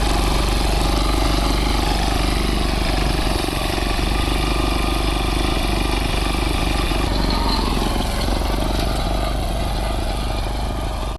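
A tractor engine runs steadily and loudly for the whole stretch, a dense, unbroken rumble that holds level before cutting off abruptly at the end, with no voices.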